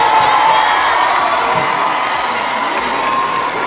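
Loud, sustained cheering from a large crowd honouring Mélanie, high-pitched shouts and whoops layered over a continuous roar with only faint clapping.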